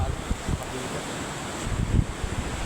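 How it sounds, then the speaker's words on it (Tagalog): Strong ocean waves surging onto a beach in Oriental Mindoro, a continuous rushing roar with heavier low pulses of breaking surf and wind buffeting the microphone, no talk. "Napakalakas ng alon."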